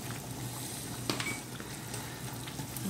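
Fish cooking in a pan, with hot water poured in and a steady, quiet sizzle and simmer continuing throughout, plus a brief clink near the middle.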